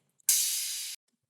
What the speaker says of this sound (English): Crash.